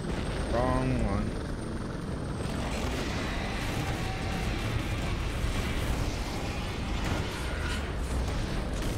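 A helicopter in the video game Prototype 2 gives off a loud, continuous rotor roar and engine drone that fills the whole stretch, with brief voices near the start.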